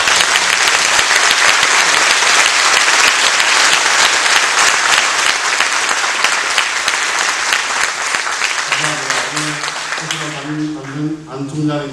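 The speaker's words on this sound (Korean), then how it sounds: "큰 박수로" A lecture hall audience gives loud, sustained applause after a talk by the UN Secretary-General, a thick wash of clapping that fades near the end as a voice begins speaking.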